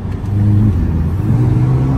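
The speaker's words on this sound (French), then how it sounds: "Dès qu'on accélère, on sent tout de suite que la voiture elle a de la reprise" Mercedes A35 AMG accelerating in sport mode, its engine drone climbing steadily over two seconds with a steady low rumble, close and loud, no voices.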